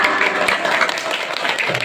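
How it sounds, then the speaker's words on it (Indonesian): A crowd of mothers applauds at an Islamic New Year 1444 H celebration, a dense, steady patter of hand claps that holds for the full two seconds with voices mixed into the noise. "Maka tepuk tangan lah ibu-ibu nah."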